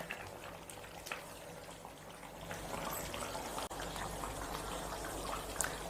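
Chicken gravy cooks in its own liquid in a covered pan, a faint, steady bubbling and simmer with a few soft knocks and clicks over the top.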